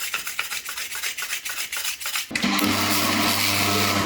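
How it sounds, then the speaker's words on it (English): A wire brush scrubs painted sheet metal in quick rhythmic strokes, then gives way to a loud, steady, whirring power-tool drone that carries on to the end. "I'll just get the wire brush."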